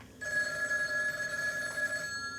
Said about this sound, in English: The red phone that's ringing now.